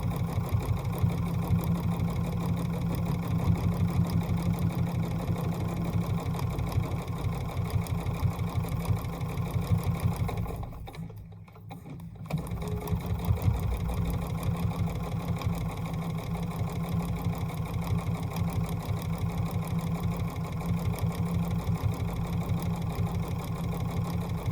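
A sewing machine stitches a quilt layer with a steady, fast mechanical whir and rhythmic needle chatter, close and continuous, dropping out for about a second near the middle before running on.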